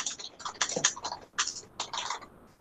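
Typing on a computer keyboard: quick, irregular bursts of light clicking keystrokes, fairly close and alone, with short pauses between flurries.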